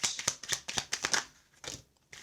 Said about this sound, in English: This is a live shuffle.